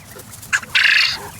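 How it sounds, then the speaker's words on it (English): A rooster crows once, nearby and loud, in a short harsh call that follows a brief squawk. "There's a nice rooster crowing."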